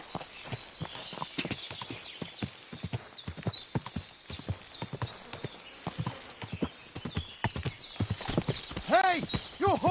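Horse hooves clip-clopping on hard ground in a rapid uneven rhythm, close and loud, with a whinnying neigh near the end and people talking over it.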